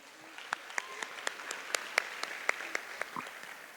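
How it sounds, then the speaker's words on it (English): An audience claps at an arangetram, a classical Indian dance debut recital. The claps are sparse, distinct and fairly evenly spaced, moderately close, over a quiet room background. "So let's give her a big hand of applause."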